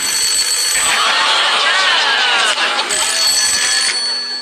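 A telephone rings on the Deal or No Deal game show set, the banker's call cutting through studio noise with repeated bright electronic trills, loud and close, while a presenter's voice and crowd murmur sit underneath.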